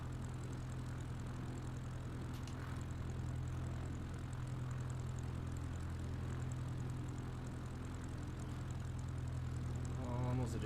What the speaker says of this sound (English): Alright, plane started.